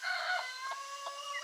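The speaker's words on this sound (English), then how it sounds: "she's clucking at her so she knows where she is" A hen with her young chicks clucks softly and steadily in a shaded tree line, with a few repeated calls that stay faint and nearby, and no talk over them.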